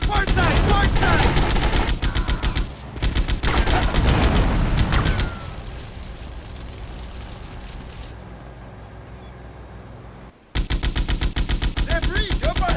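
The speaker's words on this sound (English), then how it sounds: "We spend the rest of this mission shooting all sorts of bad guys while defending the yacht." Sustained rapid machine-gun fire in GTA Vice City Definitive Edition while defending a yacht from attackers, loud continuous bursts with a quieter stretch of engine and water noise in the middle before the shooting resumes.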